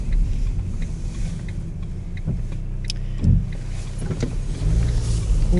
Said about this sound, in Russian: Эти машины мешают нам выезжать.